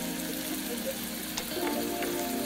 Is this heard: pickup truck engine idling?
no